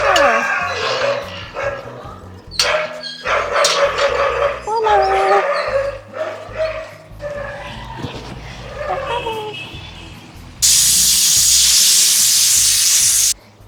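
A puppy yaps and whimpers in short, high-pitched bursts over several seconds, with some background voices, ending in a loud, steady hiss.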